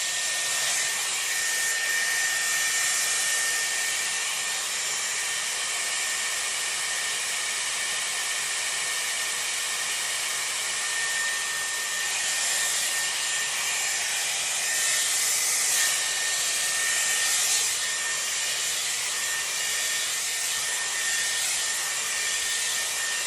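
Dyson Airwrap round brush styling hair on medium heat gives a steady, loud, close airy whoosh of blowing air that holds throughout with slight swells as the brush moves.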